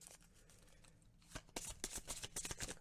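Oracle cards are shuffled close by, soft at first and then a burst of crisp riffling flicks and slaps in quick succession, quiet and intimate with no voice.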